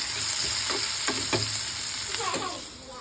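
Onions frying in a pan with a steady close sizzle, broken by several distinct scraping stirs of a spoon against the pan.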